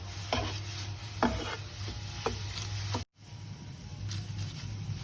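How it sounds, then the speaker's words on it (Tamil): Curry leaves are stirred and roasted in a pan: a few scraping spoon strokes over a soft sizzle, with a brief cut-out midway before the gentle frying continues. "ரெண்டுத்தையும் சேர்த்து நல்லா வறுத்துக்கலாம்."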